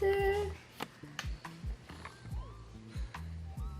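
A Siser Juliet sticker cutting machine starts up with a short series of close mechanical clicks, whirs and stepping motor movements, sounding in quick irregular bursts.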